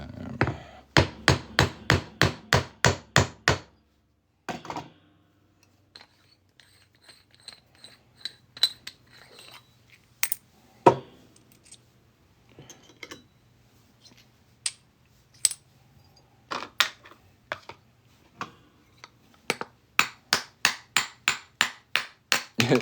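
Quick bursts of metallic hammer taps on a small state quarter coin being made into a ring open and close the clip, with sparse lighter tapping and handling noises in between.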